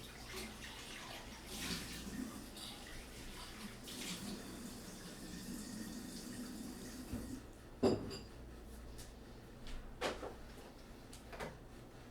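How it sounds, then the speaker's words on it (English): Tap water runs steadily into a sink while a cereal bowl is rinsed out, a soft continuous rush with a few light clinks and knocks of the bowl near the end. "I'm just gonna pour it out, rinse it out"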